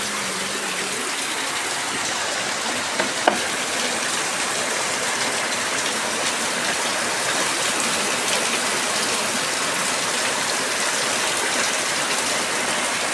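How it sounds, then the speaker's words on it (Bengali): Heavy rain falls outside in a dense, steady hiss and patter, loud and close, with one brief knock near the start and no voices. "তো চলুন বাইরের বৃষ্টিটা আপনাদের দেখাই, আর কি পরিমাণে বৃষ্টি হচ্ছে, আর বৃষ্টির আওয়াজটা একটু শুনুন।"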